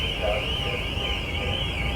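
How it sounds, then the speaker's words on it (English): Vehicle alarms sounding aboard a ferry bound for Santander, a steady continuous wail held throughout at moderate level beneath faint ship rumble, with a voice talking over it. "So I guess all the vehicle alarms are going off again."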